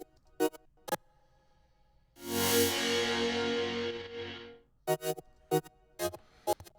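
A future bass drop synth from the Massive synthesizer gives one sustained, loud, bright and distorted chord swell of about two seconds, set between short, sharp percussive hits.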